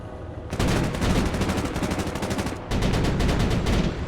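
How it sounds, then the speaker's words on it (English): A unit in the Broken Arrow war game fires on a target in rapid automatic bursts, two loud sustained volleys of closely spaced shots separated by a brief pause, with no talk. "You can press G to force it to fire at the target that you want."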